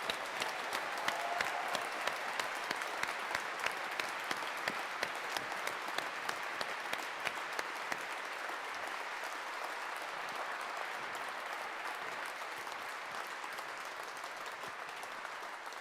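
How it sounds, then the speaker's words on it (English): A large audience at a 2011 Edinburgh University engineering graduation ceremony applauds the graduates, with sustained, dense clapping that stays steady and loud throughout, without voices. "I ask the platform party and the supporters to join me in applauding this magnificent collection of"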